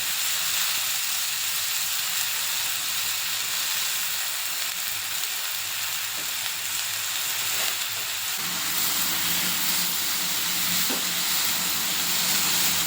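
Three finely chopped onions sizzle in hot butter with cumin seeds in a pan, a steady close frying hiss that shifts slightly partway through as they are stirred.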